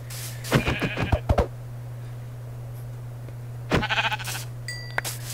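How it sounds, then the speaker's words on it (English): Two bursts of Minecraft sheep bleating, a quick series of short bleats early on and another cluster later, over a steady low hum. "Another sheep over here."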